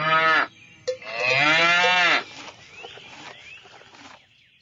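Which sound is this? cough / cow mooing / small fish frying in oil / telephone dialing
cow mooing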